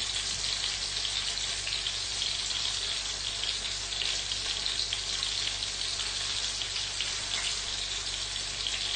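Steady loud sizzling of an egg being added to an eggplant omelette (tortang talong) frying in oil, a dense continuous crackle with no voices.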